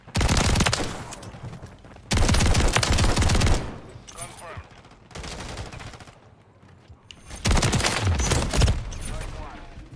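Bursts of rapid automatic gunfire from a video game, loud and dense, coming in several long volleys separated by brief lulls.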